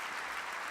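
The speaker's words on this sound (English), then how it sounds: "Thus, the big cheer." A crowd at a live stage event with a science talk cheers and applauds in a steady, dense wash of clapping that carries evenly throughout, with no voices heard over it.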